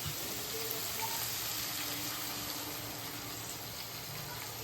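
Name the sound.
pouring water into spicy crab pepper masala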